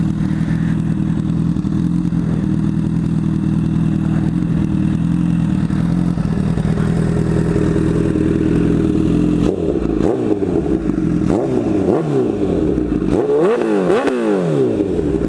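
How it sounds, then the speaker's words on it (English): Honda CBR1000RR Fireblade sport bike engine running loud and close, a steady heavy rumble that breaks into repeated sharp revs rising and falling toward the end. "Fireblade, baby! Love this bike, man."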